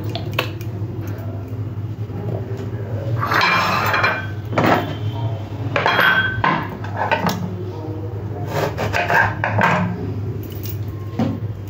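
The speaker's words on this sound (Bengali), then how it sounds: "এর মধ্যে ভালো করে সর্ষের তেলটা মাখিয়ে নিচ্ছি।" Mustard oil is rubbed into an unglazed clay pot, giving scattered scraping, squishing and light knocking contacts against the earthenware, close and moderately loud over a low steady hum.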